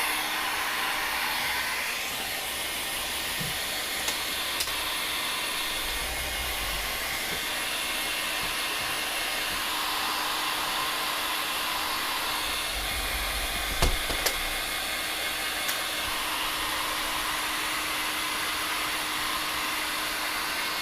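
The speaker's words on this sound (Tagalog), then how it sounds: "So, iba-blower natin kasi kawawa naman siya." A hair dryer blows a steady, unbroken whoosh to dry a freshly bathed pet bird, holding close and even for about twenty seconds with no voices.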